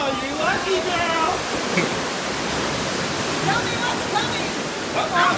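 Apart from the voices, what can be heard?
water splashing on the Kali River Rapids raft ride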